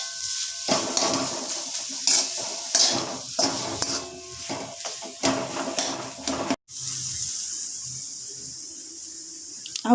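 Tomato chutney being stirred in a pan, with a scraping, sizzling texture and intermittent clinks of a utensil against the metal, close and steady, then a brief pause before the sizzling continues more evenly.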